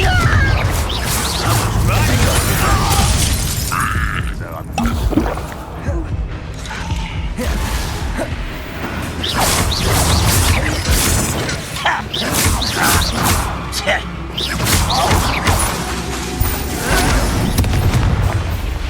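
Confringo fire spell explosions in the Hogwarts Legacy video game, booming blasts and crashes in a dense continuous battle din, with character voices shouting over the effects throughout.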